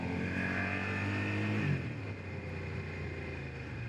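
A Suzuki SV650 motorcycle without ABS, its engine humming steadily as the rear brake locks up. The engine note drops abruptly partway through, giving way to a softer, rougher scrubbing noise of a short skid.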